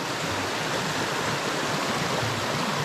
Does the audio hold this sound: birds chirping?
no